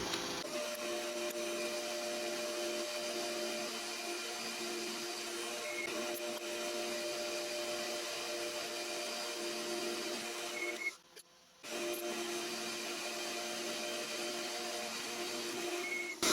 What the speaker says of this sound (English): Now I need to bore the inside out to nearly 16mm, I've drilled it out to 14.